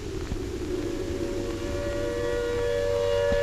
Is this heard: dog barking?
no